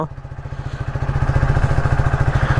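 Close-up, a motorcycle with a swapped silencer chugs along in a fast, even exhaust pulse, growing a little louder and rougher as the revs build, with no voices over it.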